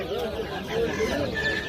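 Poultry at a market, roosters and hens giving soft drawn-out clucks and calls amid a steady crowd murmur, moderately close.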